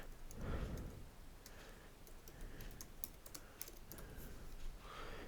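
Soft, steady typing on a computer keyboard while entering HTML code, with scattered faint key clicks over a low room hiss and no speech.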